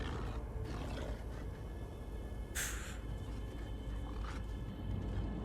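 A wolf in the video game Alan Wake II lets out a low, rough growl that rumbles on for several seconds, with a brief brighter snarl partway through.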